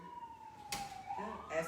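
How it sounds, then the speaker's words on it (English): An ambulance siren passes by out on the street, faint and distant, with a steady wailing tone that shifts in pitch while people talk close by. "That's the ambulance."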